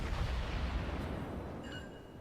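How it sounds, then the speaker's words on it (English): The German cruiser Roon in World of Warships fires a main gun salvo: a deep, rumbling boom that fills the opening and slowly fades into a lingering roar. "I already have my second salvo in the air"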